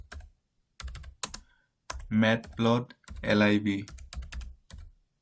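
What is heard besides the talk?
typing a command on a computer keyboard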